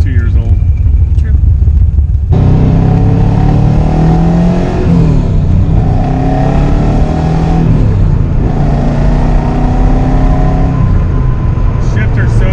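A Nissan Z car engine idling and revving nearby, loud and throaty with rising and falling rev sweeps under occasional talk, running on two-year-old gas.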